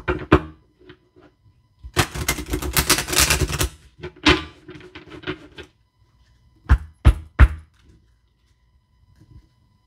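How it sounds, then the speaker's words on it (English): A deck of angel oracle cards being shuffled by hand: bursts of rapid papery riffling and flicking, a long dense riffle then shorter snaps and taps, close-up with no talking. "One more shuffle."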